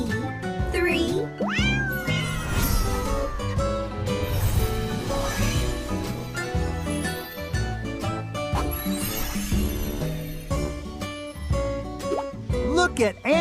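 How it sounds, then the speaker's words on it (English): Three playful kittens meowing repeatedly, loud and close, over a bouncy children's music backing with some voice mixed in. "3 playful kittens are having fun."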